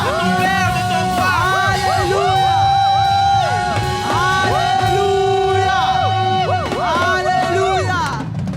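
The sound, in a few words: church congregation shouting in praise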